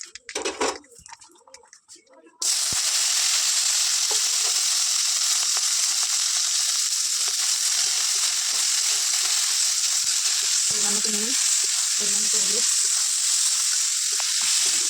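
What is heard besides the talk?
potatoes frying in oil in a wok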